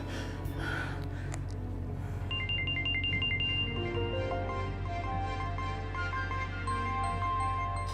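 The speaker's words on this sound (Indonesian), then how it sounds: "angkat telepon mama sayang" A mobile phone ringtone plays a bright electronic melody of repeating tones, fairly faint over a steady low hum in an indoor scene, with a short gasp just before it starts.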